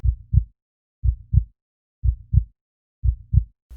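A slow, steady heartbeat: four muffled lub-dub pairs about one second apart, low and thumping, with silence between beats.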